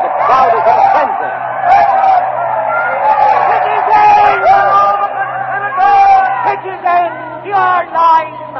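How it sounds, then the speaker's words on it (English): A frenzied Roman crowd in an old-time radio drama about the assassination of Julius Caesar, a dense roar of shouting, whooping voices surging and swelling continuously, loud and close, with excited speech-like babble throughout. "The crowd is in a frenzy."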